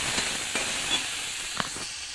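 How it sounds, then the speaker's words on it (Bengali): Garlic paste fries in oil with tomato in a pan, giving a steady soft sizzle with a few brief stirring scrapes, close and fairly quiet. "রসুনটাও ভালো করে ভেজে নেব"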